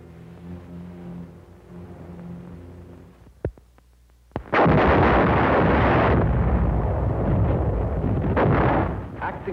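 WWII artillery fire at San Pietro, Italy, in 1945 combat footage: two sharp, isolated blasts, then a loud, sustained roar of heavy guns and rumbling detonations that keeps up for several seconds before easing slightly.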